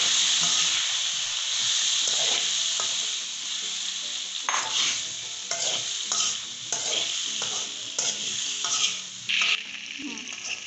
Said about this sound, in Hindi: अब हम इसमें अपने आलू डाल देंगे, इनको फ्राई कर लेंगे।